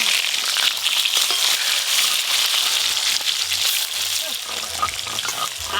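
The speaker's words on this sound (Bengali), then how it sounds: "কাতলা মাছের কালিয়া করতে গেলে কাতলা মাছ একটু কড়া করেই ভাজতে হয়।" Large pieces of catla fish fry hard in hot oil for a village-style fish curry, giving a loud, constant crackling sizzle close by with a low murmur of voices beneath.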